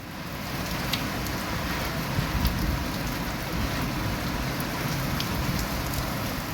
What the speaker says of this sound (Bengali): অবশেষে এবার বৃষ্টিটা দিল,